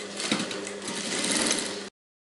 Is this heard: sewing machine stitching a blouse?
yes